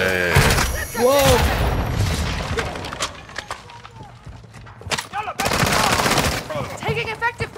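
Dense video-game gunfire, heavy automatic bursts and booms with shattering impacts, loud and continuous, mixed with voices and game radio chatter.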